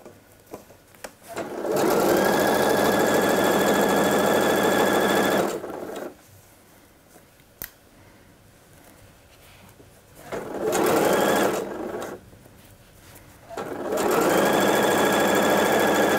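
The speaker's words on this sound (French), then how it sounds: "je plante l'aiguille dans le tissu, je relève le pied de biche" A sewing machine stitches coat fabric up close: three loud, steady whirring runs of rapid needle action, each lasting a few seconds, separated by quiet pauses with small handling clicks and no talking.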